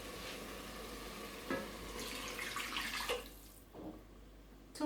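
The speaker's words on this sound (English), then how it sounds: "First of all, I will add water." Water pours into a rice cooker for cooking plantain, a soft steady splashing stream of a few seconds that tapers off, quiet and close, with no talk.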